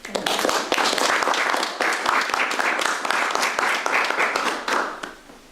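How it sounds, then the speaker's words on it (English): Audience applause greets a talk at a young people's group gathering after an introduction, heard as brisk, dense clapping with distinct individual claps, swelling and dipping in loudness throughout, nearby and unaccompanied by speech. "applause"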